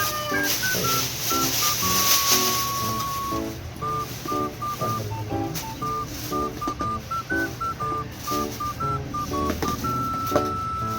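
A phone number is dialed on a keypad, a quick run of short, clear DTMF beeps pressed one after another at an uneven pace, heard close over faint room noise.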